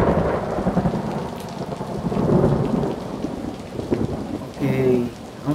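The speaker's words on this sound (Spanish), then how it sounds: "ya está lloviendo" Rain pours steadily with heavy rolling thunder in the video game A Memoir Blue, loud and continuous, a brief tonal game sound near the end.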